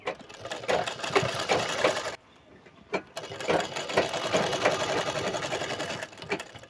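A sewing machine stitches a hoodie with a steady, loud mechanical whir that pauses briefly partway through before running again, with no voices.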